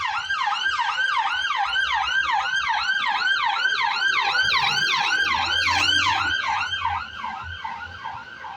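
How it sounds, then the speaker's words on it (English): An ambulance siren wails in a rapid, repeating up-and-down cycle on a city street in Foleshill, Coventry, loud and close, with faint traffic rumble beneath, fading slightly at the end. "there's always an ambulance going past"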